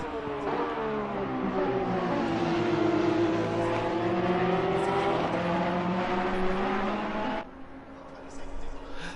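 Porsche race cars battle at Donington Park, engines swelling and accelerating past in a loud continuous drone before the sound drops off near the end, with commentary speech underneath.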